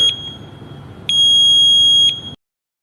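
Newly installed household smoke detector sounding a loud, piercing electronic alarm tone, a short beep followed by a longer sustained blast that cuts off abruptly.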